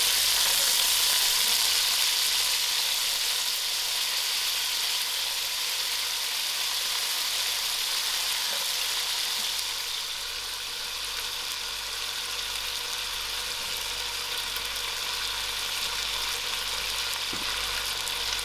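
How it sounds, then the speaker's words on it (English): Potatoes sizzle in a pan of frying onions for a spicy potato soup, a steady, close hiss of hot oil that holds for the whole stretch with no voices. "Now that my onions are ready, so I'm going to add in my potatoes"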